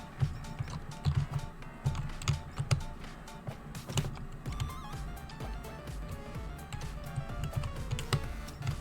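Keys on a computer keyboard click in quick, uneven bursts during a session of the game HoloCure, close and fairly crisp over a steady background of game sound.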